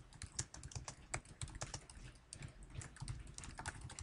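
Rapid, continuous keystrokes on a computer keyboard as a note title is typed into a note-taking app, a dense, steady clatter of close clicks with no voices.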